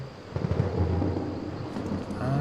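Thunder from a brewing storm in the horror video game Outlast, a deep rolling rumble that swells and lingers, loud and continuous with faint rain-like hiss.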